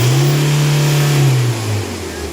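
A common rail diesel engine held at about 3,000 RPM during a fuel pressure test gives a loud, steady mid-pitched drone before the revs drop and the tone falls away near the end.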